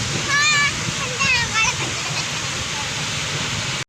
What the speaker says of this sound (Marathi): चल मी कपडे धुते आता